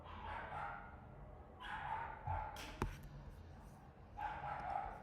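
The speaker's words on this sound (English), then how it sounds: "What are these dogs doing?" Several dogs bark in bursts at a moderate distance, in a few clusters spread across the stretch, with faint background noise between the bursts and no clear talk.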